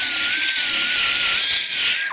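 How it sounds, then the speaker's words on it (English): A low-speed polishing machine fitted with a tungsten steel wheel buffs a tire patch area, giving a steady, close, high-pitched grinding whine that holds evenly throughout without pause. "Choose a low-speed machine with a tungsten steel wheel."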